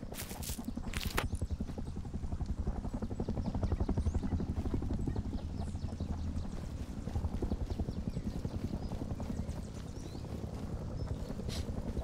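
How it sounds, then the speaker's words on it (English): A helicopter in the survival video game Rust, its rotor chopping in a steady, dense beat that stays fairly loud and close for the whole stretch, with no talking. "I do not like that helicopter either."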